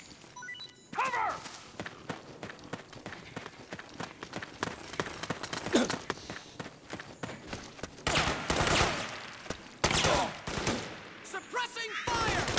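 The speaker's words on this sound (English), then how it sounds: "Suppressing fire!" Suppressing gunfire in a Metal Gear Solid 4 battle: rapid bursts of automatic shots and scattered single cracks over footsteps and shouting soldiers, busy and dense, growing louder toward the end.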